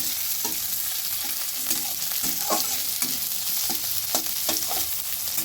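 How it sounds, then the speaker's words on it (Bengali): Onion and other ingredients stirred while frying in a pan with oil for a pumpkin flower dish, a continuous sizzle broken by repeated scraping strokes of the spoon, close and fairly loud. "পেঁয়াজটা কিছু হালকা মতো ভেজে এবার অন্যান্য জিনিসগুলো দিয়ে দেব"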